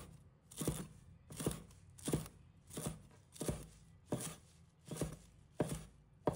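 A knife chops cilantro into small pieces on a cutting board. About eight crisp, evenly spaced strikes land close and clear, with nothing else heard.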